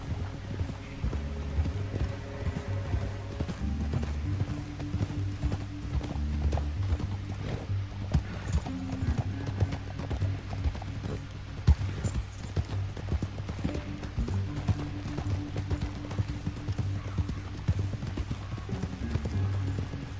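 Horses' hooves clip-clop steadily at a run in Red Dead Redemption 2, a continuous loud rhythmic beat over a low drone of background game music, with an occasional faint whinny.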